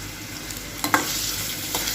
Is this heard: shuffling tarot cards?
no